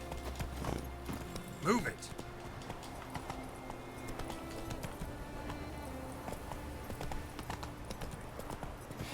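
Roach, the horse in Witcher 3, with steady hoofbeats clip-clopping under spoken lines and game ambience, the footfalls moderately close and fairly even.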